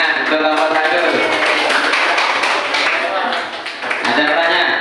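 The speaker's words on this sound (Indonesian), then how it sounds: "Tepuk tangan untuk nomor 1." Classroom applause in a vocational high school maths lesson, a dense wash of many hands clapping together at close range, sustained for several seconds with a brief dip near the end.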